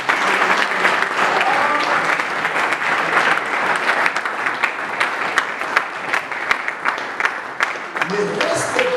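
A church congregation at a Sunday service applauds and cheers for Jesus, a dense steady roar of many hands clapping with crowd voices mixed in, loud and continuous throughout.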